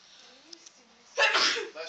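A single loud, breathy sneeze bursts out after a quiet stretch, close to the listener, with faint background murmur before it.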